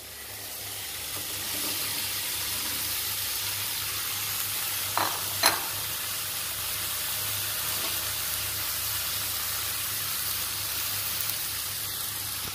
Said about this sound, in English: you can see how it is steaming inside, right? So it is kind of beginning to cook.